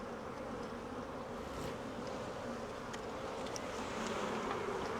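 Honey bees buzz around an open beehive while honey is harvested, a steady, dense droning hum that holds at an even level for the whole stretch with no talking.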